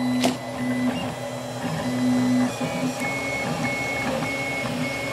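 A newly assembled 3D printer kit runs its first print, giving a close, continuous motor hum with shifting stepper-motor whines and tones, and no talking.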